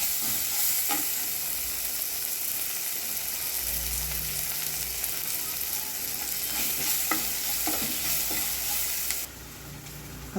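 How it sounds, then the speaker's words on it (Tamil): Tomato frying in oil, a continuous dense sizzle and crackle with occasional stirring knocks, fairly loud and close, ending with a brief drop in intensity near the end. "நெக்ஸ்ட்டு டொமேட்டோ போட்டு நல்லா ஆயில் பிரிஞ்சு வர அளவுக்கு ஃப்ரை பண்ணிக்கோங்க."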